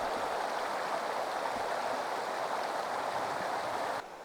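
A snowy mountain creek with a strong current rushes in a steady, dense broadband wash that stays loud and unbroken before dropping slightly at the end.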